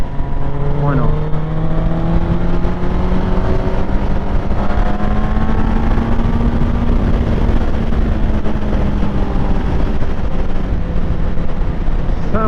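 Motorcycle engine accelerating during an overtake on the road, its droning note rising in pitch through repeated revving sweeps under constant wind rush against the microphone.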